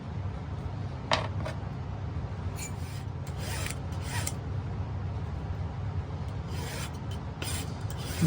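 A metal file rasps across the top of a setting being made for a turquoise nugget, flattening it with repeated close, fairly quiet strokes and short pauses between passes.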